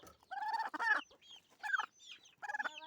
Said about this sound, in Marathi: प्युअर गावरान कोंबडी आहे